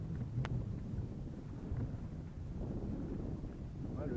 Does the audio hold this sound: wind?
yes